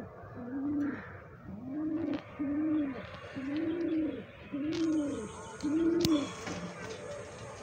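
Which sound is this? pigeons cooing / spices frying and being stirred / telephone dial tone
pigeons cooing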